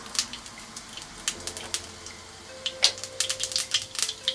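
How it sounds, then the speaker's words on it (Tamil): Mustard seeds spluttering and popping in hot oil while tempering a lentil rasam, heard as faint, scattered sharp crackles over a quiet background with a soft low hum. "கடுகு பொரிஞ்சிருச்சு."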